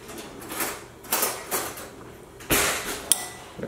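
A spoon stirs a honey-mustard marinade made with salt and pepper for grilled steelhead trout, giving a few close, separate clinks and scrapes against the bowl with quiet gaps between them.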